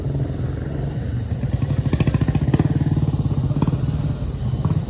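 A classic British motorbike rides up at a gathering in Japan, its engine thumping in a fast, even pulse that grows louder and nearer, then settles back toward a steady idle.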